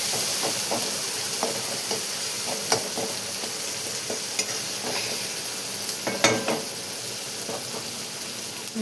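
Onion masala sizzles loudly in a hot pan as it is stirred and mixed, with a constant frying hiss and repeated clinks and scrapes of a spoon against the metal. No one speaks.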